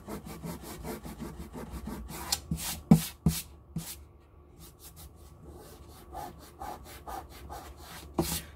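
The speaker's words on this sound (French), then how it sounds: "Donc on frotte avec le doigt un chouïa humide." A slightly damp finger rubs over a transferred image on a mixed-media surface, giving a steady run of short, close, dry scrubbing strokes that repeat quickly, with a few brief louder knocks partway through.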